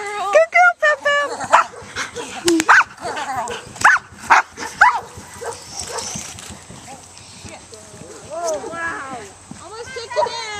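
A 10-month-old puppy barks, yips and whimpers in bursts while playing, with a person talking and praising it throughout and growling play noises between the barks.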